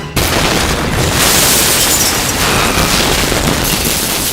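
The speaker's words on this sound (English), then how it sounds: "What you saw was the actual explosion." Building demolition explosion in downtown Los Angeles: a sudden loud boom that swells into a sustained, dense roar of rumbling blast and debris lasting several seconds.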